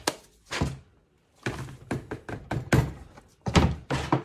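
A bath bomb mold shell is tapped repeatedly, producing a series of sharp, close knocks and thunks in an irregular rhythm with short pauses between groups.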